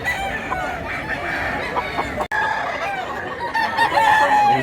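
Chickens cluck steadily in a busy flock while a rooster crows over them, continuous and fairly close, with no talking.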